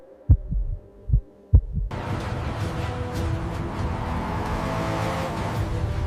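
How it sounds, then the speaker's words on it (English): A heartbeat sound effect gives three heavy, evenly spaced thumps, then gives way to a loud, steady engine rumble that continues to the end. "The sound echoed like a heartbeat."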